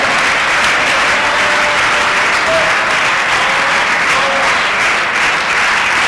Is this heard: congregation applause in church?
yes